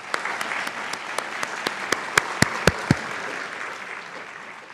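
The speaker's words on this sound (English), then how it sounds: "Can I have a round of applause for all of these fine people?" A seminar audience at an honors colloquium applauds, a steady wash of clapping with a few sharp louder claps standing out, sustained for several seconds without speech.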